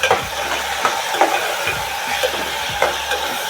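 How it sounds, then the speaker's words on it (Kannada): Chopped tomatoes frying in a pan with onion and green chillies for moong dal rice, a steady close sizzle broken by short scraping stirs. "ಹೆಚ್ಚಿಟ್ಟಂಥ ಟೊಮೊಟೊನ ಹಾಕ್ಬಿಟ್ಟು ಚೆನ್ನಾಗಿ ಫ್ರೈ ಮಾಡಬೇಕು"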